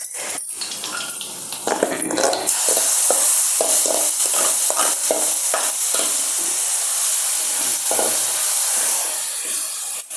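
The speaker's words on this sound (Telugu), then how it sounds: "ఇప్పుడు చట్నీ వేసేసుకుందాం అందులో." Tomato and brinjal chutney hits hot tempering oil in a pan and erupts into a loud, steady sizzle after a few stirring clatters, continuing alone without speech.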